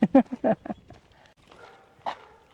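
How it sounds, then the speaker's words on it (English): A dog barks several times in quick succession close by during a forest walk in Kirroughtree, Scotland, followed by quieter rustling and one more short bark. "You hear the dog barking, at least it's not ours"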